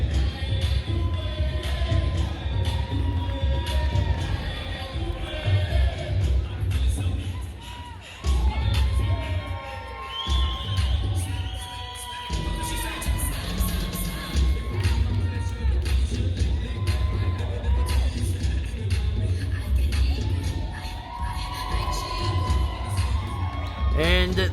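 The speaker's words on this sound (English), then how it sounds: "the crowd here showing their appreciation for the Christopher Chavez Memorial Battle Royal winner, Delta Jr." A crowd at a live wrestling event cheers and shouts for the winner of a battle royal at a Colorado wrestling homecoming show, a loud, sustained roar with yells and whoops that briefly dips before swelling again.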